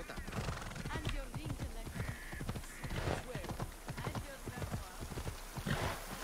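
Horse hooves clip-clop steadily in Assassin's Creed Odyssey, a brisk repeating rhythm of close, clear footfalls under a voice talking throughout, with occasional whinnying.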